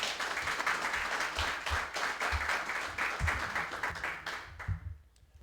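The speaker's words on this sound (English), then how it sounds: "Give yourself a round of applause for me, please." Audience applause at a live evening event in Tortola, BVI: a sustained wash of many hands clapping with scattered louder claps, fading out near the end.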